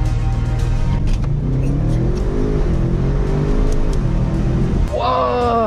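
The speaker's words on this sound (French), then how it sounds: "Bon les amis, on va tester le launch control." A 600-horsepower Audi RS6 C8 runs a launch-control start: the engine holds a loud, rumbling rev with wavering pitch, then surges into a sharp rising howl near the end, recorded up close.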